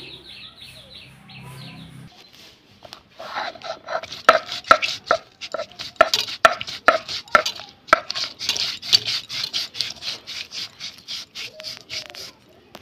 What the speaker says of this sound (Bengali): আমি শিলপাটাতে সুন্দর করে বেটে নিচ্ছি দেখো।